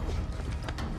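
Horse hooves clip-clop in a scene from The Last of Us TV series, with quick, dense hoof strikes buried in a busy, noisy mix over about a second.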